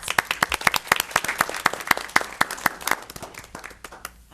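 A small group at a school board meeting claps for several seconds, distinct individual claps close by in an uneven rhythm that thins out at the end.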